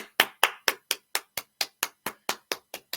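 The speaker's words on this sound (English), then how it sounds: "So I'm just going to put a round of applause." Single person clapping hands, about a dozen sharp, evenly spaced claps close to the microphone, each crisp and separate in a quiet room.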